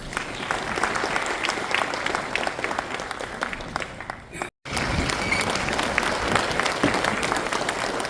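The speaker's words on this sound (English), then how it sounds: "Kindly welcome him with a warm round of applause." Audience applause welcoming the guest of honor at an IT awards ceremony in Meghalaya, a steady wash of clapping from a large crowd, interrupted by a brief dropout, then continuing at the same level.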